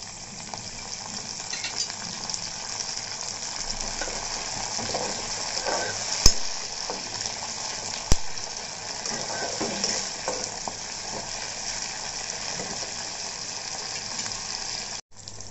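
Chopped tomatoes hiss and sizzle in a hot pan of onion and green masala, a steady close frying crackle with occasional stirring clinks and soft background voices.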